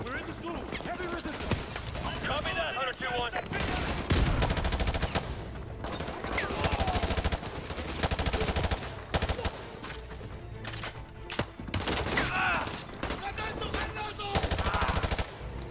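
Rapid bursts of automatic Uzi submachine gun fire in Call of Duty: Modern Warfare 2 Remastered, loud and repeated in long strings, with a voice talking over the shooting.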